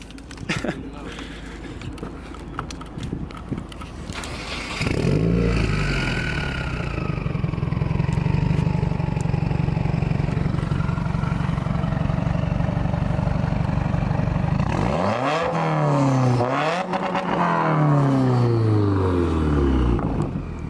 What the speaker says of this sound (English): But first, rev it real quick, bro.